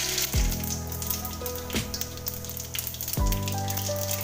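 Cumin and mustard seeds dropped into hot oil for tempering a sweetcorn chevdo give a crackling, sputtering sizzle close by, broken by a few soft knocks.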